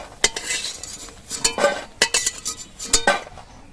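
Metal spatula scraping and clinking against a wok while fried lentil dumplings (bori) are lifted out of mustard oil, a series of sharp close clanks and scrapes in an uneven rhythm with faint sizzling underneath.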